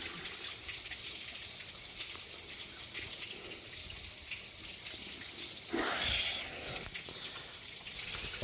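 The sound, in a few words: water flushing through an old 1956 Chevy engine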